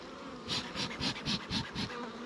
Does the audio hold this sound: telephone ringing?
no